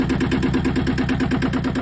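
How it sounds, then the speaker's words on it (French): A Yanmar 1GM10 diesel engine idles nearby with a steady, rapid knocking clatter and low rumble, unchanging over the short stretch. "Là, voilà le bruit du moteur."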